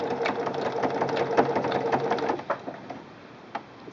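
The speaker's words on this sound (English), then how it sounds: "keep everything flowing smoothly through the machine" A Singer Quantum Stylist 9960 sewing machine stitches sequin trim with a fancy trim foot, giving a steady, close whirring run of needle strokes that slows and breaks into a few separate stitches near the end.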